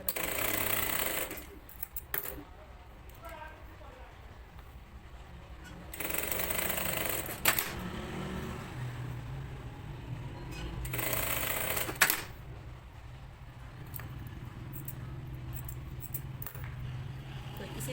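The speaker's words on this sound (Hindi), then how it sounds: "निशानों के हिसाब से मैं इसके ऊपर सिलाई लगा रही हूँ" A sewing machine stitches along a neck design in three short bursts of rapid mechanical whirring and clatter, separated by quieter stretches of faint room noise.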